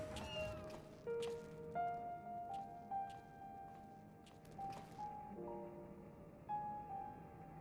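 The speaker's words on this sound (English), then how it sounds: "Meow." A cat meows several times in the Final Fantasy XIV Dawntrail video game, each meow short and clear over soft game music and ambience, fairly quiet.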